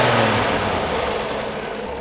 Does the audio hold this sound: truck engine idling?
yes